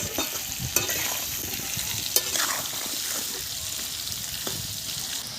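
Papaya pieces frying in hot oil give a steady, close sizzle, broken by a few sharp stirring clicks.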